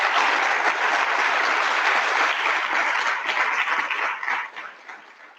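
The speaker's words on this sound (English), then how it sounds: "Let's give Michelle a round of applause" A round of applause from the audience at a university research awards ceremony, steady and sustained clapping across the hall that gradually thins and fades toward the end.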